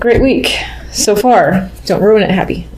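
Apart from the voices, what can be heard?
No everyday noises stand out.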